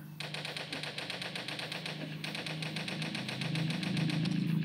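Steady rapid gunfire in the Toilet Monster hide-and-seek game, a continuous mechanical rattle that runs throughout over a low droning background hum and slowly grows louder.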